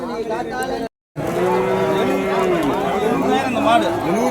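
Cattle low loudly and repeatedly at a Saturday cattle market in Vaniyambadi, a long drawn-out moo close by over crowd chatter and talking, with one brief cut to silence.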